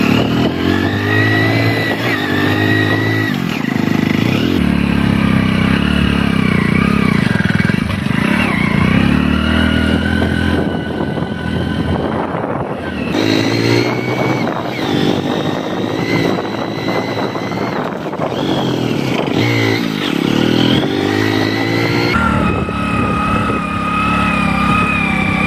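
A motorcycle climbs a winding ghat road up a hill near Nayagarh, Odisha, its engine droning steadily and loudly throughout with shifting pitch as it works uphill.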